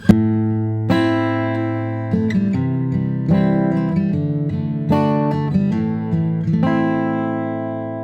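A clean guitar riff recorded through a ribbon microphone plays alone, with plucked notes and chords ringing out in a steady rhythm, close and clear.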